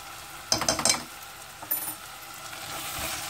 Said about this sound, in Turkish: Bunları iyice karıştıralım.